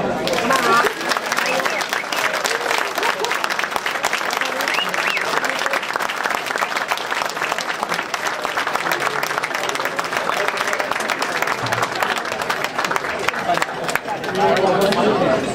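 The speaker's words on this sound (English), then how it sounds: "Please give us a big round of applause." Audience applause fills the hall at the 2013 Flying Horse Award ceremony, dense sustained clapping from a large crowd with some chatter mixed in, loud and steady the whole time.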